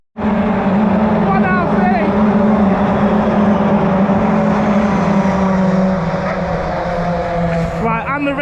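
Ginetta Junior race cars roaring off the start at Brands Hatch, a dense, loud wall of engine noise that swells and holds, with a voice speaking over it.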